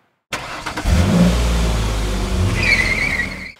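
A Volkswagen Polo GTI with a 180-horsepower 1.4-litre supercharged and turbocharged engine starts up and revs loudly nearby, settling into a steady throaty idle, then rises with a whining note near the end.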